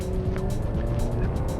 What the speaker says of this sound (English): And you can kind of hear it right now, like it's not a loud car.